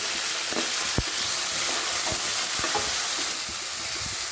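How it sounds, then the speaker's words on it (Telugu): Chopped tomatoes frying in oil over browned onions and curry leaves for a prawn curry, a steady close sizzle broken by a few sharp spoon knocks and scrapes against the pan, with no talking. "బాగా మెత్తగా మ్యాష్ అయ్యేటట్టు ఫ్రై చేసుకోవాలి ఆయిల్లో"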